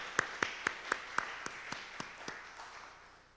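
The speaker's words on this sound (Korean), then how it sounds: "하나님께 감사의 박수를 올려드립시다." A church congregation at a Sunday devotional service gives slow, evenly spaced claps in unison, about nine distinct beats at a moderate distance, fading quieter toward the end.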